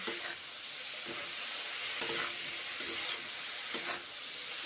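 Cabbage sautéed with green chillies and a little bitter gourd in a pan, a soft continuous sizzle with periodic stirring scrapes every second or so, close but fairly quiet, no voices.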